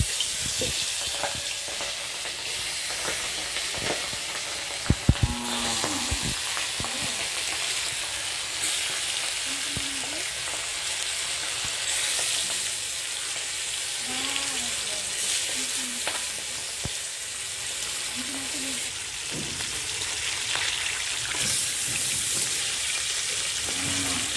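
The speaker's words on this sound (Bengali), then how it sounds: "মাছগুলো ছেড়ে দিচ্ছি" Hilsa fish fry in hot mustard oil with a steady, faint crackling sizzle throughout, broken by a brief clink of a utensil against the pan.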